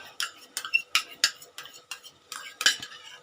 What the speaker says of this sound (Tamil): நான் 1/2 கப்பு தயிர் எடுத்து நல்லா எப்படி கட்டிகள்லாம் இல்லாமல் அடிச்சுக்கோங்க